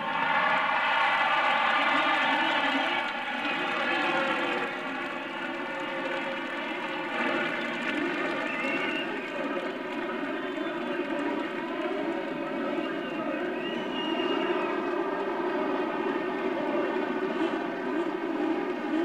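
Indy race car engines idle and drone at the start of the 1984 Indianapolis 500, a loud, sustained layered whine of many engines at a distance that holds steady with slight rises and falls in pitch, without talk.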